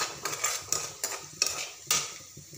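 A spoon scrapes and stirs in a pan as turmeric is mixed into cooked peanuts for upma. Metallic clinks and scrapes come in a loose rhythm of about six strokes, close and moderately loud, with no talking.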